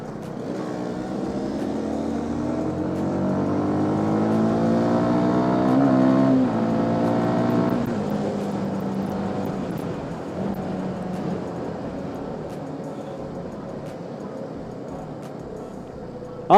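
A CFMoto NK 250 naked sports motorcycle is ridden, its engine note rising in pitch as it accelerates through the gears, then easing back to a steady cruising drone with wind rush, loud and close throughout.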